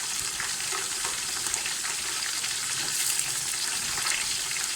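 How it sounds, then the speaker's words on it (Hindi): Green chilies and onions fry in a pan with a continuous, even sizzle, close and moderately quiet, with occasional stirring scrapes. "इन चीज़ों को हम प्याज के साथ ही फ्राई कर लेंगे थोड़ा थोड़ा"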